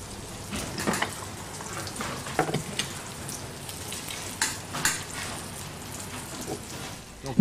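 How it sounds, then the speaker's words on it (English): Duck breast browns in a pan on the stovetop, giving a low, steady sizzle with a few louder pops and crackles, heard close but fairly quiet. "They'll be browned slightly on top of the stove and finished in the oven."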